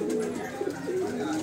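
Pigeons, Kale Menadaag breed pigeons offered for sale in Seelampur, Delhi, coo in a low, soft, continuous throaty murmur, fairly close.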